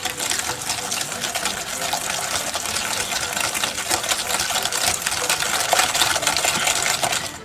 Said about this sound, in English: Now you want to keep whisking the eggs and vanilla until combined.